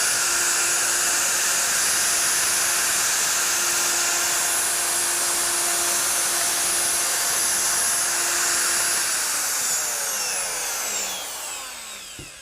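A router with a jig makes a trimming cut along an MDF edge, a loud steady high whine held for about nine seconds before the motor spins down and fades near the end. No one talks.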